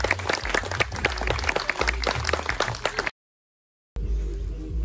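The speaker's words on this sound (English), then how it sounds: "Round of applause for our challenge." Loud audience applause at a Radfest 22 awards gathering, dense rapid clapping for about three seconds, then a short silence before the clapping resumes.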